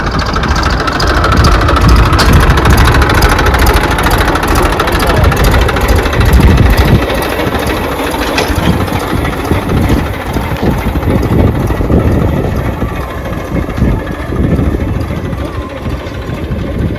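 A tractor's diesel engine idles and chugs steadily nearby, a low throbbing rumble that stays loud throughout, with faint voices in the background.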